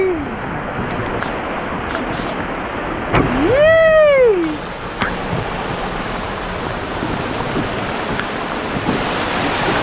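Steady broadband rush of a Sahyadri river flowing fills the whole stretch, with a voice rising and falling in a brief sung or called phrase partway through.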